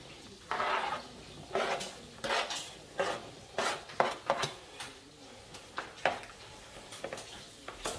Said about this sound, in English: Alright, we'll go ahead and add the mushrooms in.